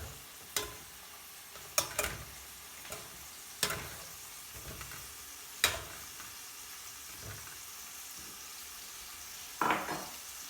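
Chilies, apples and greens sizzling in a hot pan, a steady hiss with sharp clanks and tossing scrapes at uneven intervals, close and fairly clear, no talking.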